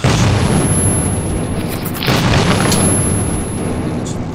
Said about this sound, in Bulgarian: Ами, взривих и тук едно място.